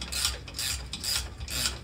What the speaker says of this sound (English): put the ratcheting end on them.